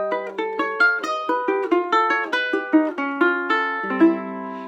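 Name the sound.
augmented chord played on guitar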